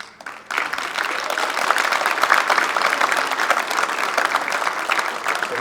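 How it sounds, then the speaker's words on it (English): Steady audience applause for high school nominees at an MLK celebration, starting abruptly after a brief pause and holding loud and dense throughout. "so we can applaud you and your efforts"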